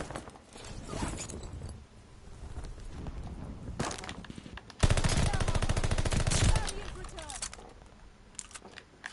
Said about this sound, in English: It took me all 25 bullets and I had to hit most of them on him in order to get it.